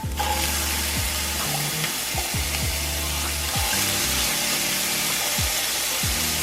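Rinsed chickpeas sizzling in a hot skillet, a loud continuous crackling fry with intermittent scraping and stirring sounds of a utensil against the pan.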